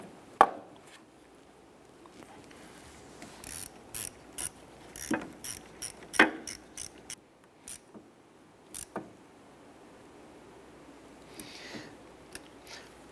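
Ratchet snugging down the ground terminal on a 2015-2020 Cadillac Escalade battery, giving a series of sharp irregular clicks, some in quick bursts, against a quiet garage background.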